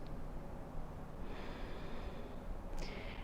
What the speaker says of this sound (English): Nice deep inhales and exhales in, out through the nose